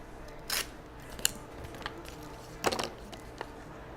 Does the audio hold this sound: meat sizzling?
no